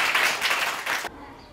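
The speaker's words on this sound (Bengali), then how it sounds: "তাহলে আমার জন্য একটা জোরে হাততালি হবে না?" A classroom of children claps loudly for their teacher, a burst of quick, ragged applause that stops abruptly, leaving near quiet.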